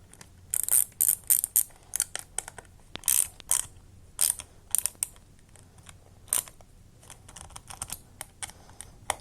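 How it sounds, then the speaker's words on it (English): Ratcheting wrench tightening bolts on motorcycle lower fairings, a long run of rapid, crisp clicking bursts close by with short pauses, no talk. "I'm gonna tighten this."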